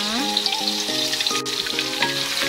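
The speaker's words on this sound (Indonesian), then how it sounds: "ini udah saya panasin minyaknya langsung pasang bumbunya" Spice paste fries in hot oil, a close, bright, continuous sizzle and crackle that stays fairly even throughout, with faint tonal squeaks underneath and no talking.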